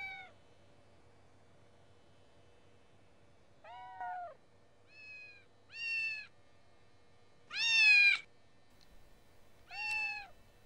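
Several cats meow one after another, about six distinct calls spaced a second or two apart, some short and some longer and louder, heard clearly over a quiet background.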